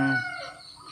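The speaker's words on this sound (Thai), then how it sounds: "เสียงไก่ขัน" A rooster crows close by in a rural Isan village, one loud crow that fades out over about a second.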